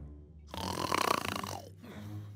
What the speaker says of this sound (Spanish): ¡Qué manera de roncar!